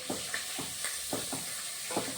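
Chopped large onions sautéing in a pan for Tamil-style egg curry, a soft steady sizzle with several light scraping stirs spaced through it, close and fairly quiet, no voices.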